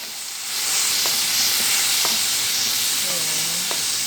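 Onion and garlic frying in a pan until lightly browned for soy sauce fried rice give a loud, continuous hissing sizzle, broken by a few soft taps of a stirring utensil.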